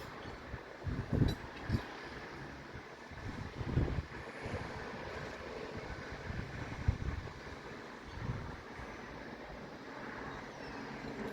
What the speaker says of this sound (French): Vous allez peut-être entendre le vent, parce qu'en plus, ça souffle, la vent du midi.